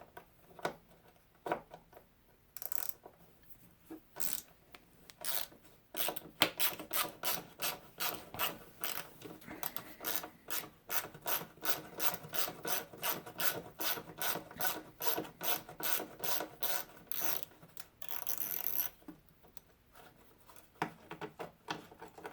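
A ratchet clicks in quick rhythmic bursts while bolts are worked off a Jeep being prepped for a new plow, faint and close, with short pauses between runs of clicking.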